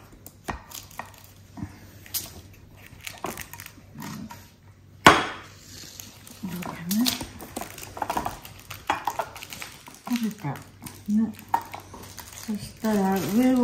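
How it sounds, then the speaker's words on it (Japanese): Baked castella honey cake turned out of its pan in a home kitchen: a sharp single knock of metal against a surface, surrounded by softer clatters and handling sounds, with voices speaking intermittently. "焼き上がったようですからひっくり返します。"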